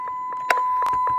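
A continuous high electronic tone with several short, sharp beeps and clicks layered over it, close and clear.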